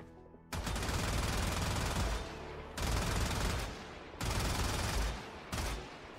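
Rapid automatic fire from a high-recoil primary weapon in the video game Shrine of the Eidolon, loud sustained bursts in four long streams separated by brief pauses, no talking.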